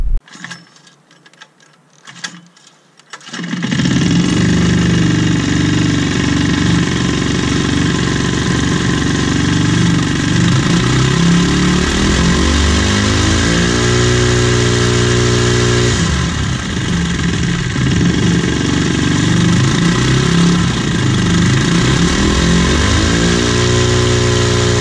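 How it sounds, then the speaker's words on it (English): Homemade paramotor engine fitted with a dB killer, starting after a few quiet seconds and then running loud and close at high RPM, a sustained buzzing roar with slight rev shifts around the middle and no talking. "reaching more RPM than I ever had on this engine at the prop"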